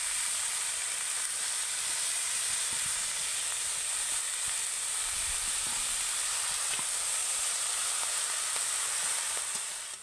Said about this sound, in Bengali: বাঁধাকপিটা আমি মশলার সাথে ভালো করে নেড়ে নিয়েছি।